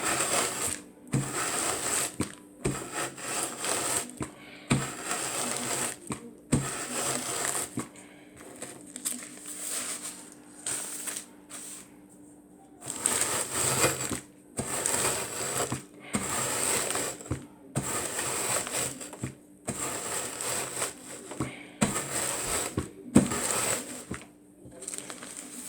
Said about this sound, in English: We're gonna just do a little bit more crushing up here, because the cookie crumbs are not crushed up enough.